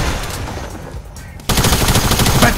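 Pump shotgun fire in Fortnite lands as a loud, sudden blast halfway through, following a quieter stretch of game noise, with dense, rough bursts continuing to the end.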